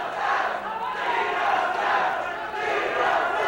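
A 1982 Southwest Championship Wrestling arena crowd jeers and shouts at a wrestler entering the ring, a loud continuous roar of mixed voices swelling and dipping.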